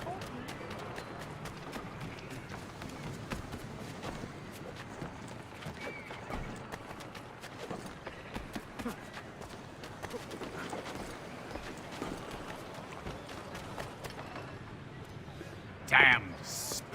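In Assassin's Creed III Remastered, horses' hooves clip-clop in a steady rhythmic patter with an occasional whinny, fairly quiet beneath voices of characters talking over them.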